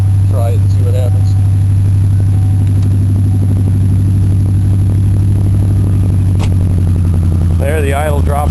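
A Ford Crown Victoria engine idles with a steady low rumble and a faint tick, close and constant, while someone talks briefly at the start and again near the end.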